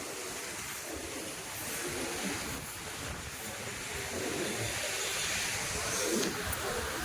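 Sea waves wash against the shore beside a seaside Shiva temple, a broad rushing surf that swells and recedes in slow surges at fairly close range.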